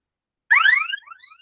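An electronic alarm from a drowsiness detection system demonstrated at a hackathon presentation sounds as bright, rising chirp tones that start abruptly, then a second fainter, trailing sweep, with no talk over it.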